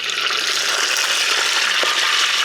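Continuous hissing sizzle with fine crackling as pandan chicken fries in hot oil, loud and close, steady for the whole stretch with no voices.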